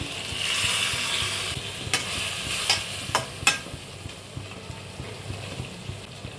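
Boiled pumpkin greens water poured into a frying pan of pumpkin greens chochhori, a steady frying sizzle with a few sharp scraping clinks of stirring, close and alone.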